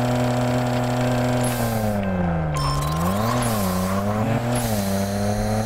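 A Nissan Skyline R32 makes a drag run in the Racing Rivals game, its engine loud and continuous as the revs climb, drop and climb again through gear shifts, heard alone without talk.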